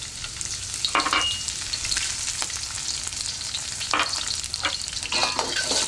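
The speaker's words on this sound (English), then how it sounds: "I'm going to heat these peppers up a little bit here." Chili peppers and chopped green onions fry in hot oil for kung pao shrimp, a constant loud sizzle with repeated clattering stirs and scrapes across the pan, no voices.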